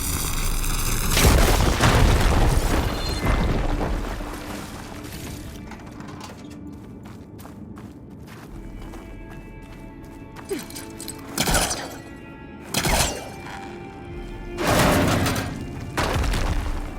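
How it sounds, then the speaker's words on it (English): A fire gleam blown up in Horizon Forbidden West: a loud booming explosion with a low rumble at the start, then quieter mechanical clanks and several further thudding bursts and pops toward the end. "Should be able to blow up that fire gleam."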